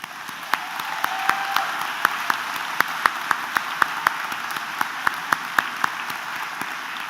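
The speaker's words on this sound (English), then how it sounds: "Please join me in a well-deserved round of applause for our exceptional faculty" A large audience at a community college commencement ceremony applauds the faculty, a steady roar of clapping with distinct sharp claps from nearby hands popping out at irregular intervals throughout.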